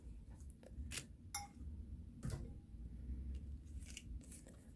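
Tarot cards being shuffled by hand, giving brief crisp riffles and snaps over a steady low background hum, close and fairly quiet, with no voices.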